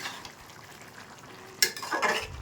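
A spoon stirs pumpkin and spinach curry in a pan, with soft simmering and a brief metallic scrape and clatter near the end, close and quiet with no talk.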